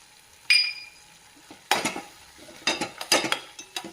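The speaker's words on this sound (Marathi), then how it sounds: "मसाले छान परतून घ्यायचे." Spices such as turmeric, red chili powder and garam masala sautéed in a pan, with intermittent scraping and clinking stirring strokes over a faint sizzle, close and moderately loud.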